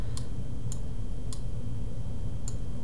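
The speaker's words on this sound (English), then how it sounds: "I'm moving the arrow keys on my keyboard down" Arrow keys on a computer keyboard are tapped four times at uneven intervals, each a faint, sharp click over a steady low room hum.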